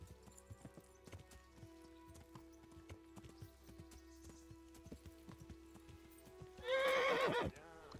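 A horse in the medieval game Kingdom Come: Deliverance clops along steadily with game ambience, then lets out a loud, close whinny near the end as it halts.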